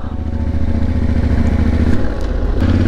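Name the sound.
motorcycle engine riding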